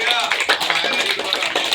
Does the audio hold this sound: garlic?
no